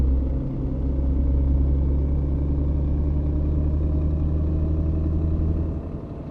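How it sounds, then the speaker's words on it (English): A lorry engine on the road between Dortmund and Hannover hums in a deep, steady drone, then drops away near the end as the gear changes; no one speaks. "Can hear the engine drop gears then to compensate for that."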